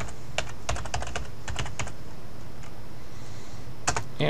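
Bursts of quick clicking keystrokes on a computer keyboard, close and fairly quiet, arriving in short irregular runs with brief pauses between them.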